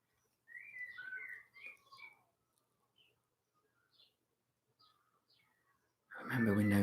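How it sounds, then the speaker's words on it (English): A faint bird calls from a distance outdoors in a garden, a few short whistled phrases followed by sparse chirps in near silence, before a voice starts close up. "The sound of the bird."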